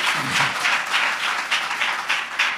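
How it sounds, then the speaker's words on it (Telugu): A church congregation claps together in a quick, steady rhythm, the claps fairly close and even, with no talking over them. "చప్పట్లు కొడితే యేసయ్యకు స్తోత్రాలు చెప్పి"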